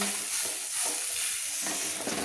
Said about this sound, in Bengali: জল অ্যাড করে মশলাটা আমি কষিয়ে নিচ্ছি